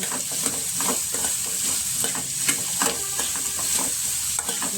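Pumpkin palya frying in oil in a pan, stirred with a utensil: a continuous close sizzle overlaid with a quick, irregular series of scraping and tapping strokes.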